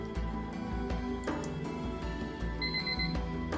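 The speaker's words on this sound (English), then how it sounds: "there's my timer." An electronic kitchen timer alarm rings in a home art studio, sounding as a repeating rapid beeping pattern that is moderately faint and continuous over a low background hum, with no talking.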